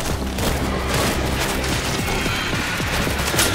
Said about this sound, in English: Auto turret online!